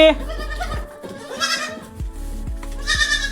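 Young goat kids bleat in high, wavering cries in an enclosed goat shed, a few calls overlapping close by, with a person's voice faintly in the mix.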